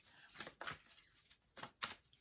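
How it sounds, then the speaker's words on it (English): Soft riffling bursts of tarot cards being shuffled, four or five short brushes at uneven intervals, close and quiet with no voice. "They want me to shuffle and give you one more card."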